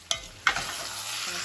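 Food stirred in a frying pot with a steady sizzle, two sharp scraping knocks of the spoon near the start, then continuous frying hiss, close and fairly loud.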